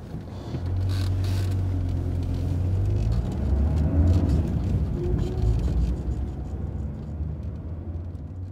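A taxi pulls away on a street, its engine a steady low rumble that rises slightly and then settles as the car drives off, close and continuous for several seconds with no talk.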